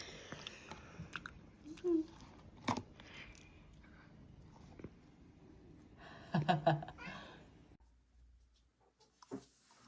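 A pet with missing front teeth chews a chicken treat up close, with scattered soft crunches and wet bites, while a person talks and laughs quietly in between.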